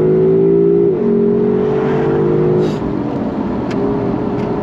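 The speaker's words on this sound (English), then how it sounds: "And of course, this is the V8, so it sounds really, really nice." A Lexus LC500 V8 at wide-open throttle, its engine note loud and close, climbing steadily in pitch with a brief dip around an upshift, continuous rising roar throughout with no talk.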